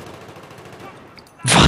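A loud burst of gunfire erupts near the end in the video game Battlefield 3 during a team deathmatch on Operation Firestorm, following a stretch of quieter in-game ambience with a player's voice heard at times.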